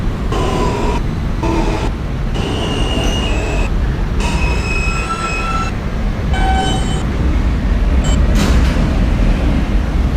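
A New York City subway F local train bound for Coney Island–Stillwell Avenue rumbles loudly and steadily, wheels squealing on the rails in repeated high-pitched bursts.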